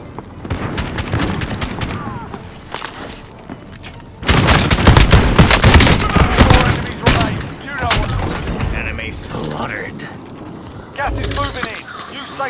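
Heavy explosive blasts from a precision airstrike in a battle-royale shooter game, a loud rolling barrage of booms and rapid gunfire-like bursts that surges midway and returns near the end, with no talk.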